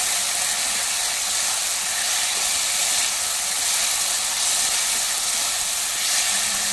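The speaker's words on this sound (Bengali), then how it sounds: "ভালো করে মশলাটা ভেজে নেব যতক্ষণ না তেল ছেড়ে যায়" Ground spice paste sizzles in mustard oil in a home kitchen pan, a steady, loud hissing fry with no pauses, alone without talk.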